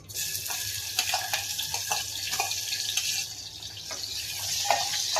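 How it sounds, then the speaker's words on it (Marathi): Onion sizzling and crackling steadily in hot oil in a pan for jackfruit curry, with occasional stirring scrapes over a continuous frying hiss, close and fairly loud with no talking. "तर आता तेल गरम झालेलं आहे, आपण याच्यात कांदा टाकून घेऊया।"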